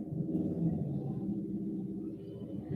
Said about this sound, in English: The motorbikes in the streets.